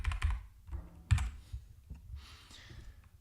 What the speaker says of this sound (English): Pressing B.